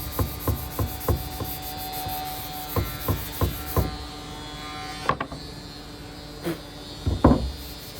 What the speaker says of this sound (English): Sand this way. Scratch the hell out of it. Against the grain, too.